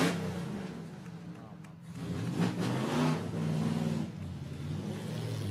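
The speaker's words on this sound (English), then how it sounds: "when you hear this engine, you'll hear it's got this basso profundo sound, which is the straight 8" A supercharged straight-eight classic car engine rumbles deep and steady, swelling into revs during a concours d'elegance parade at Villa d'Este, with an announcer's voice running over it.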